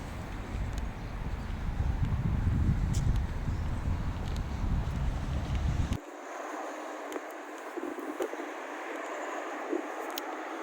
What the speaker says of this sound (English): a bit windy today, so this is also a good test for the noise cancellation